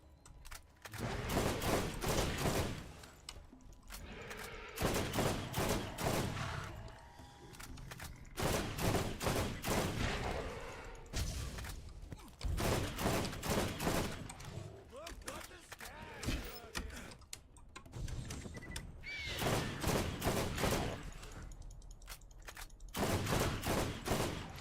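Rifle and SMG fire in the video game Borderlands comes in repeated loud bursts of rapid shots separated by short pauses, with occasional talk between volleys.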